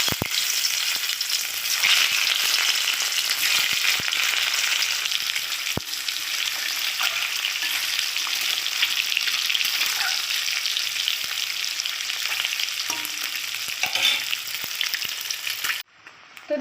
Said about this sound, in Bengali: এবার আমি ডিমগুলো একটু হালকা করে ভেজে নেব।